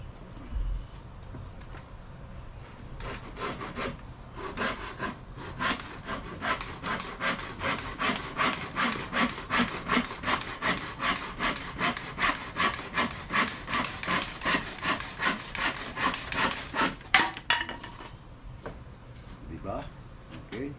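Rhythmic back-and-forth strokes of a hand saw cut through wood, steady and close, speeding up slightly before stopping, with a voice briefly in the background.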